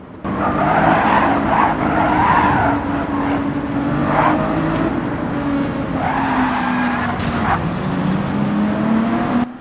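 Race car tires skid and squeal under hard braking in Gran Turismo 7 on the Nürburgring, loud screeching bursts over a roaring engine, repeated as the car fights to make the corner.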